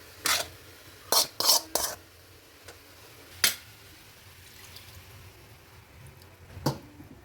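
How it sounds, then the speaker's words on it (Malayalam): Prawn roast masala being stirred in a pan, with a few sharp metallic scrapes and clinks of a spoon against the pan in quick bursts, then quieter rubbing and one more clink near the end. "അങ്ങനെ നമുക്ക് ഇനി ഇത് നല്ല രീതിക്ക് ഇളക്കി കൊടുക്കാം."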